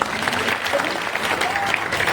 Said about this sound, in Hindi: आप लोग ताली बजा सकते हैं।